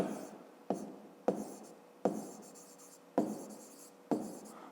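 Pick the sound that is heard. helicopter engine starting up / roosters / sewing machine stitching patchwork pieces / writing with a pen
writing with a pen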